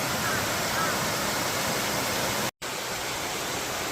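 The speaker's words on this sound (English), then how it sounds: "It's another beautiful waterfall." An artificial waterfall on the Namparang trail on Koji Island gives a steady, loud, broadband rush of falling water, interrupted by a brief silent gap.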